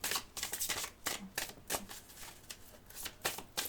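Tarot cards shuffled up close before three are drawn, short bursts of papery riffles and soft slaps in an uneven rhythm, no talking.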